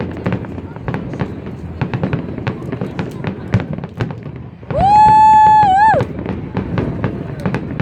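Fourth of July fireworks exploding over Tempe Town Lake in Arizona: a rapid-fire string of sharp bangs and crackles at varying distance, with a sustained high whistling tone rising in the middle of the barrage.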